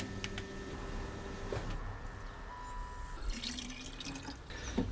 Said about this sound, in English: Now this bleed screw is starting to bubble.